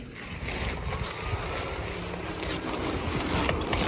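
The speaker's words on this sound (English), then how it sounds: "It's pretty windy out" Steady gusting wind blows outdoors, buffeting the microphone with a continuous rough rush that swells slightly toward the end, loud and close with no other clear sounds.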